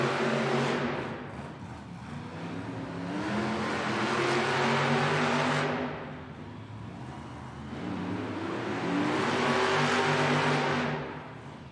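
Monster trucks race at a Monster Jam event in Helsinki, Finland, their engines roaring and revving in two long swells that rise, hold and fade, loud and fairly close.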